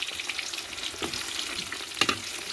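Bitter gourd frying in hot oil, a steady close sizzle with crackling bursts and a couple of sharper pops from stirring, no voices.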